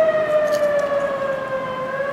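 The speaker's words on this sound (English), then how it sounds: "This is what tornado sirens sound like." Tornado warning sirens sound during a monthly outdoor test, a loud sustained wailing tone with harmonics that slowly falls in pitch, carrying steadily from a distance.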